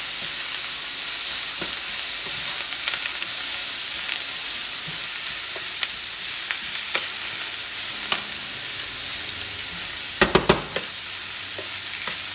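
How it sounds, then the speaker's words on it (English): Tuna and cabbage sizzle steadily in an oiled pan as they are stirred together, a continuous close frying hiss broken by a few sharp clicks and scrapes of the utensil against the pan. "And I'm going to mix it around."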